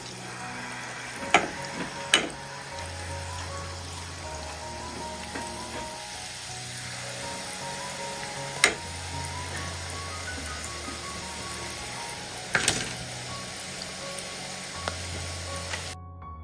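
Urad dal batter squeezed straight into hot oil for an evening snack sizzles and fries steadily, a continuous close bubbling hiss with a few sharp crackles and clinks of utensils.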